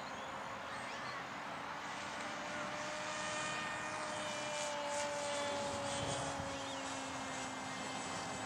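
A model UAV airplane's engine drones steadily at half throttle during flight, a continuous moderate tone with slowly shifting pitch, heard alone at mid distance.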